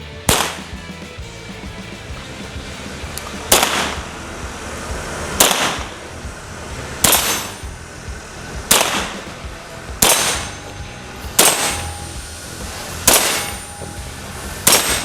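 Sharp shots from a SIG Sauer 522 .22LR rifle each ring out with a bright metallic clang off a steel target, about eight evenly spaced impacts at a distance, loud against quiet outdoor background.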